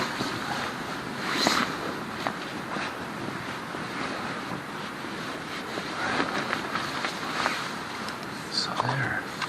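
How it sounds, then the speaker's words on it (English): Steady rush of flowing water outside a hot tent on a solo winter trip, a broad continuous wash with some wind buffeting, and a few faint thumps and rustles close by. "Man, you can hear that water up there"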